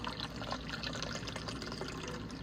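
Shaken cocktail of apple cider and margarita mix pouring into a glass, a steady close liquid stream with faint splashing that runs without pause.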